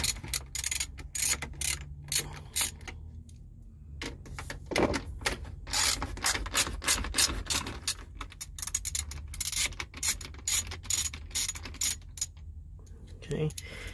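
Screws are driven back into the center console of a 2006 Ford Explorer, giving close, quiet clicking and ratcheting bursts in irregular clusters with brief pauses and faint background hum.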